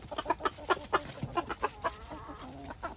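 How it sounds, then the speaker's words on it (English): Chickens cluck in a farm coop in a busy, overlapping series of short calls, close and fairly loud, with no talking. "You chickens can go."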